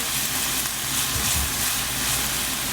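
Shrimp curry fries on high heat, giving a dense, even sizzle that continues without a break, close and loud, with a soft stir or bump in the middle.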